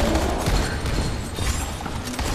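Dense, continuous gunfire from the zombie survival game Dying Light: The Following, a loud sustained barrage with booming low end and crackling bursts throughout, with no pauses.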